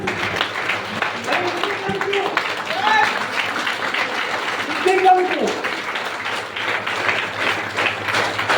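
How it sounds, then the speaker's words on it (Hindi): An audience at a direct-selling business seminar claps for people from several Madhya Pradesh towns, a moderate, continuous patter of applause with a few voices calling out over it. "तालियां इनके लिए"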